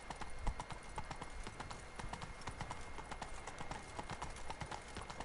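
Horse hooves clip-clop steadily and close in The Witcher 3: Blood and Wine, a quick regular beat over a constant background hum of game ambience.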